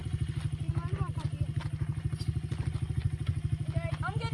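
A small 50cc motorbike engine chugs in a fast, even put-put rhythm close by, running steadily throughout with faint clatter over it.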